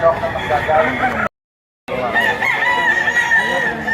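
Chickens clucking and a rooster crowing over steady noise at a chicken market in Lipa, Batangas, with a short silent gap in the middle and people talking throughout.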